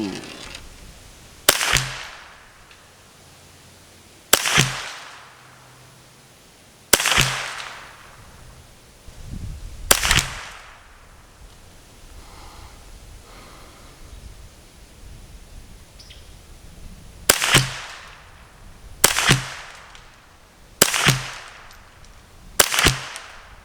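Seven sharp, loud Ruger 10/22 rifle shots fired with Eley Match ammo through a Kidd barrel outdoors, spaced irregularly across the clip with a quiet pause in the middle, each crack followed by a brief ringing tail.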